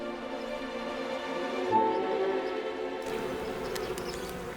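Gallica wasps buzzing in summer heat beside a dried-up riverbed, a continuous close drone that swells briefly in the middle before a fainter, higher hum takes over.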